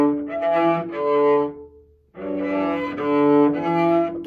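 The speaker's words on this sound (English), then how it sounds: "maybe the bow is pointing down, and it makes a squeezing sound" A badly bowed string instrument produces two scratchy, pressed phrases with a short gap between them, sounding strained and squeezed, close and fairly loud, with no talking.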